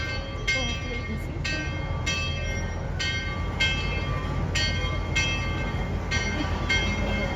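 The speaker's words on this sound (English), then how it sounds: "There's the most adorable horn you've ever heard in your life." A small steam train's high, thin horn toots in short repeated bursts over a steady rumble of rolling carriages.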